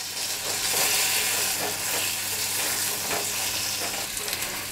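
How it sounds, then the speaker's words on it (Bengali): Jujube fruit (kul) fries with turmeric powder in a pan, a dense, loud, continuous sizzle with occasional stirring scrapes, heard up close and with no voices. "হলুদের গুঁড়ো দিয়ে কুল ভালো করে আমি ভেজে নিয়েছি।"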